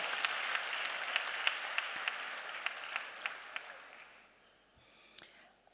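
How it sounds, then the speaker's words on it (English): An audience applauds the president at a diaspora gathering, a steady wash of clapping with a few sharp close claps standing out, fading away toward the end. "Let's give the president a big round of applause."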